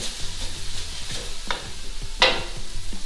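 Browned pork with a pinch of salt is stirred in a hot pan for fried saimin: a steady sizzle under scraping, rhythmic spatula strokes and one louder clatter, close and without talk.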